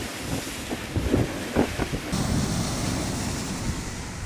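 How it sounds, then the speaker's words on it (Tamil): Strong wind sweeps over rough, churning sea off the Kankesanthurai coast in northern Sri Lanka, a steady roar of gusting air and surf with low rumbling buffets, close and continuous throughout. "பலத்த காற்று வீசுவதுடன் கொந்தளிப்பாக காணப்படுவதாக எமது செய்தியாளர் தெரிவித்துள்ளார்."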